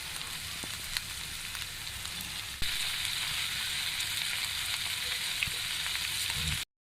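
Half a spoonful of soy sauce hits a hot pan, a steady sizzle that jumps louder partway through and keeps frying evenly until it cuts off abruptly, with a few faint clicks of a utensil.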